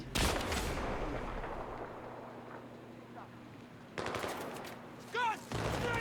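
Gunfire from the video game Battlefield 3: a loud burst opens, then a fading rumble, then further sharp shots and shouted voices near the end.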